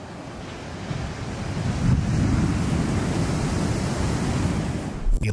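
Massive ocean waves crash at the Wedge in California, a loud continuous roar of surf with deep rumbling and wind buffeting the microphone, swelling slightly as a wave breaks near the camera.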